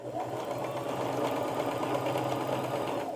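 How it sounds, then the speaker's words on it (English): A sewing machine runs a large zigzag stitch through fabric, stitching forward and backward to lock the seam. It gives a steady, close, continuous mechanical whir for the whole stretch, with no talking. "And I'm on a larger zigzag stitch, forward, backward to lock it in,"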